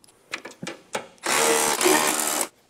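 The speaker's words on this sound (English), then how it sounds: "So I'm gonna tighten those bolts down and we're gonna be good." A power tool tightens bolts on the body of an off-road vehicle: a few short clicks and taps, then a loud whirring burst of about a second and a half that stops abruptly.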